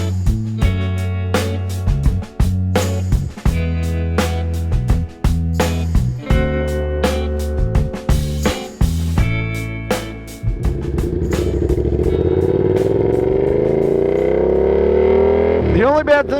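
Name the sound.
Yamaha FZ-07 (MT-07) motorcycle engine while riding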